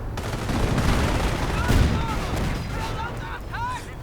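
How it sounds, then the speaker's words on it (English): Sniper shots and MG42 machine gun fire in a World War II strategy video game, a dense, distant-sounding clatter of gunfire and impacts under a steady battle din, with a few brief higher tones near the end. "Sniper fire, MG fire actually from the MG42"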